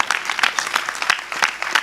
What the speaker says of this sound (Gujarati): એમની દિવ્ય ચેતનાઓને એક વખત હું તમે જોરદાર તાળીઓથી વધાવી